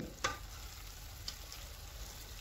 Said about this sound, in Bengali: তো দেখুন আমার ভাজা শুরু হয়ে গেছে এবং লাউয়ের ছোলকার যে কালারটা সেটা চেঞ্জ হয়ে আসছে